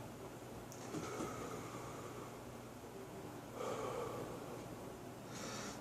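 Heavy, strained breaths from a man after eating a Burmese Naga pepper, with two or three harsh, audible exhales and snorts spaced out over a quiet, faint room background.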